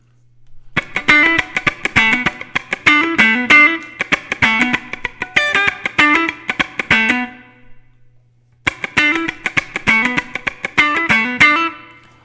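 Funk rhythm strummed on an electric guitar with the compressor switched off: dry, choppy muted strums in a tight repeating groove, close and loud, stopping briefly before the pattern starts again.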